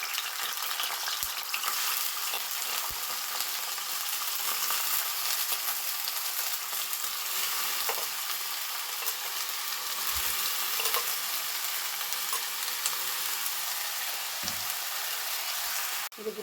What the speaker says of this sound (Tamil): கடாயில் எண்ணெய் ஊற்றி கட் பண்ணி வச்சுருக்க கத்திரிக்காயெல்லாம் அதில் போட்டுக்கலாம்.